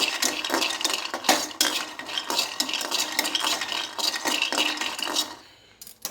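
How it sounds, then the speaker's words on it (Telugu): Peanuts frying over medium-low flame, stirred in a pan with a knife: steady, close scraping and rattling of nuts against metal with light sizzling throughout, no talk, fading out at the end. "నేనైతే చాకుతో తిప్పుతున్నాను"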